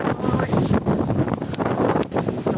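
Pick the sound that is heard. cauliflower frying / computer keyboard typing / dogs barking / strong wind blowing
strong wind blowing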